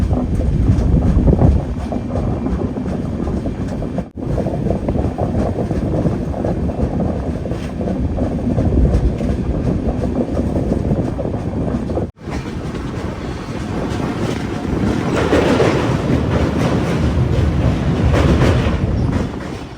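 The Aronai Express, a long-distance Indian passenger train, rumbles along the track with a loud, continuous roar and wind buffeting, briefly interrupted twice.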